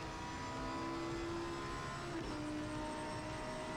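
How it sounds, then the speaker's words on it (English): A Porsche race car engine in a racing game at Monza holds a steady high drone with a shifting pitch, loud and continuous throughout, with no talking. "the Porsche sounds amazing"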